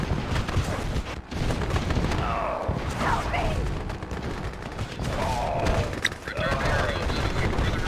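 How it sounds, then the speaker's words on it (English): Gunfire and explosions in a Mental Omega strategy battle form a dense, continuous din with sharp cracks and bursts. Voiced unit chatter sounds over the fighting. "We're taking fire!"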